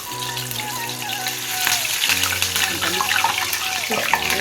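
Prawns for prawn 65 dropped into hot oil, a continuous bubbling sizzle that grows louder as pieces go in, with a voice talking over it.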